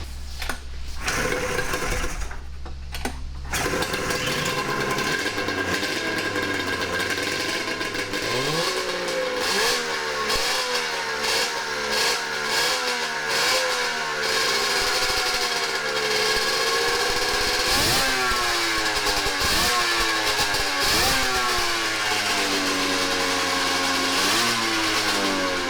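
A 100hp drift trike engine runs loud and close, revving up and down repeatedly in rising and falling sweeps over a steady buzzing idle, with a brief gap near the start.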